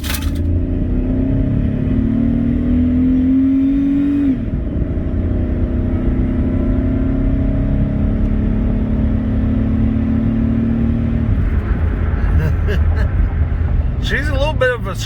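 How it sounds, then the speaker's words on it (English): A 2006 Dodge Ram 1500 quad cab with the 3.7 Magnum V6 accelerates from inside the cab, a steady loud engine drone whose pitch rises and then drops at a shift, continuing throughout with speech over it. "Get us one more of them acceleration runs."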